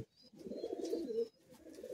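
Pigeons cooing close by in a loft of Andhra breed birds, one soft low rolling coo that swells and breaks off, then a second coo starting, with no talk.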